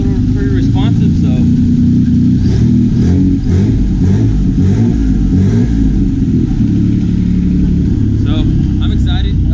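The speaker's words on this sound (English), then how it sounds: "you can obviously hear that there's an exhaust leak" A car engine with an exhaust leak revs and idles up close, loud and rough, with a raspy, ticking exhaust note; a voice talks briefly over it.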